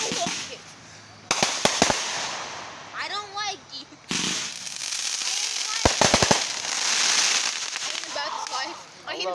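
Firework bursts crackle and whistle with sharp pops, a rocket screeching upward amid loud crackling outdoors, voices faintly underneath.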